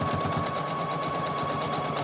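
A sewing machine stitches a fabric face mask with a rapid, even mechanical chatter and a steady hum, close and continuous throughout.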